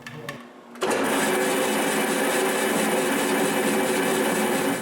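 After a brief quiet start, a metal-cutting band saw kicks on and runs with a steady, loud mechanical hum and buzz.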